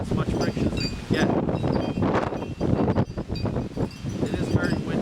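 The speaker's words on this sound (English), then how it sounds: "It is very windy." Strong outdoor wind gusts buffet the microphone in sustained loud rumbling bursts beside a manual transmission car, with brief speech under the roar.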